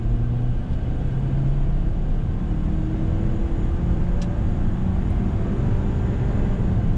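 A 2019 Ford Edge SEL with an 8-speed automatic accelerates hard, heard from the cabin as a steady, loud engine and road rumble with a faintly rising drone throughout.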